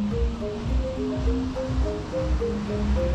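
Surf washes steadily onto a busy beach in Canggu, Bali, a continuous rolling roar with gentle swells and no speech, close and fairly loud throughout.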